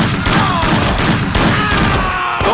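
Sustained gunfire from the Mafia video game on PS2, a loud, dense burst of overlapping shots with a few shouted voices mixed in, continuing steadily from start to finish.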